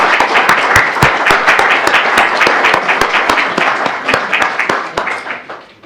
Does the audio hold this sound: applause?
yes